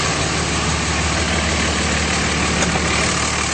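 A 2006 Dodge Ram 2500 with a 5.9L diesel engine idles steadily, a loud, even low rumble with no voices over it.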